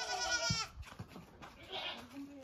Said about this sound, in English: This is our goat.